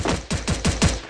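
Rapid bursts of video game gunfire crack out in a quick series of about five close, loud shots with no talk over them.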